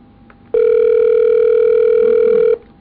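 A telephone line gives a steady, loud, pure dial tone that holds for about two seconds, then stops cleanly against a quiet background.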